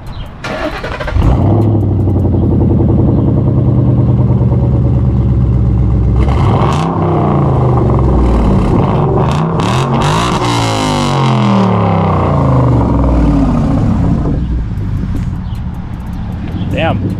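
Loud V8 muscle car, a BOSS 302 Mustang or 6.4L Scat Pack Widebody, fires up and revs hard, a throaty roar rising and falling close by, with a person speaking briefly over it.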